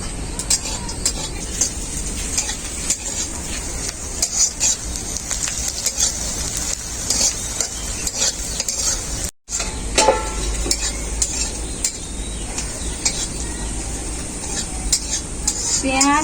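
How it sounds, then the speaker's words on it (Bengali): Cashews and raisins frying with onion, ginger and garlic in a pan, a steady close sizzle with stirring and scraping of a utensil against the pan throughout. "কাজু বাদাম, কিশমিশ সব একসাথে হালকা করে ভেজে নিয়েছি"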